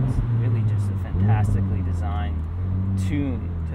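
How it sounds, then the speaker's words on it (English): A Ferrari 458 Spider engine hums steadily with a low exhaust drone, overlaid by someone talking continuously. "It's really just a fantastically designed tune to that exhaust note."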